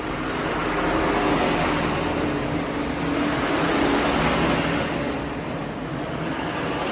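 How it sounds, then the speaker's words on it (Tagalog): Large vehicles pass by outside as a continuous, fairly loud broadband rumble of traffic that swells and eases slightly with no speech. "Marami nang dumadaan na malalaking sasakyan."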